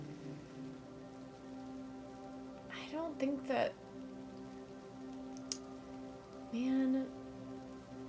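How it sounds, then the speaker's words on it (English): Steady rain falling in the video game Kathy Rain 2, a soft even patter beneath brief bits of someone talking and a few faint ticks. "I guess it is raining"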